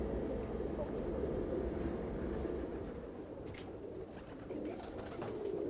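Pigeons cooing on a New York City rooftop loft, steady low murmuring coos from several birds blending into a continuous close-by bed of sound with faint outdoor background.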